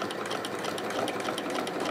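Sewing machine running steadily while stitching thick industrial rope for a rope bowl, a continuous close mechanical whir with rapid repeating needle ticks and no talking.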